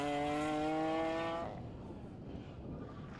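A BMW M3 rally car racing in the Belgian championship, its engine holding a loud high-revving tone that drops away abruptly midway, leaving rougher, quieter road and engine noise.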